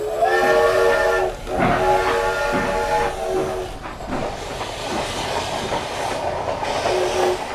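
Atchison, Topeka and Santa Fe Railroad steam train crossing the American plains, its steam whistle sounding over the rolling clatter of wheels and cars, fairly loud and continuous.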